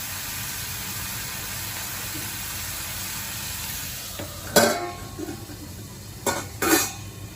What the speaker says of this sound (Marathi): आता मी हे कारले असे झाकण लावून पाच दहा मिनटं हे कारले असे शिजवून देणार आहे